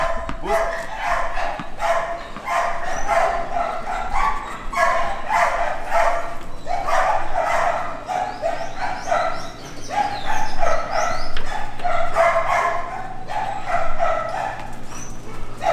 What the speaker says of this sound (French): isso é uma cadela de indicação passiva, marcando o ponto ali, né?